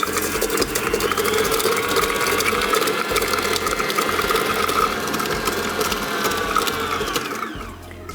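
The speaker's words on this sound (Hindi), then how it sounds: "इसको हम मिक्स करेंगे जब तक कि आपस में अच्छी तरह से मिक्स नहीं हो जाए" An electric mixer beats sugar and cheese together until fluffy for a tiramisu, a loud, steady mechanical whir that runs without a break before easing off near the end.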